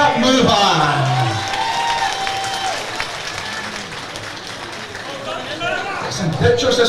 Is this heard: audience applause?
yes